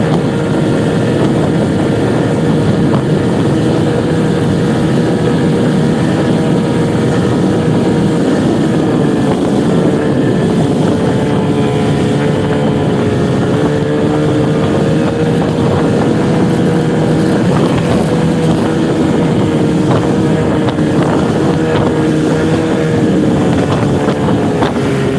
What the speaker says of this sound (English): that breeze is cold